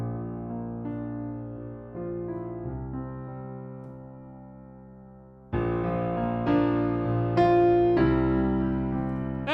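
Keysuite bundle sampled piano through the cinematic mic, playing slow sustained chords that swell and ring out, then louder, brighter chords in the second half, with no voices.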